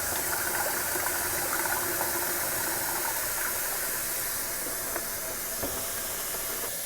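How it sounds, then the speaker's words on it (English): Water pours steadily into a JOYMOOP mop bucket with a continuous rushing hiss, plus a few faint clicks and knocks from the bucket. "So we'll fill this one all the way up, and then we'll add our mop detergent."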